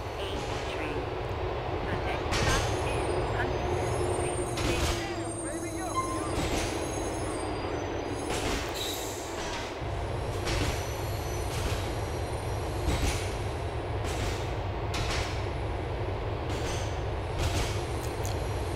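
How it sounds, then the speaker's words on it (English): A subway train rolls along in Grand Theft Auto IV, its continuous rumble carrying clanks and squealing wheels, with a voice talking over the ride. "I'll just stay on the train the whole time."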